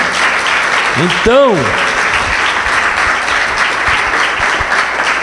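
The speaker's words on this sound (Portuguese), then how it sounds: "palmas para Jesus, amém?" Congregation in a church applauding, steady loud clapping that fills the room, with a voice talking briefly over it.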